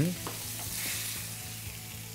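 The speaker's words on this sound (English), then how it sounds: "it's going to saute very quickly because it's been sliced very thinly with the peeler" Thinly peeled vegetable slices sauté in a hot pan with a steady, close sizzle and a few soft stirring knocks, heard alone without talking.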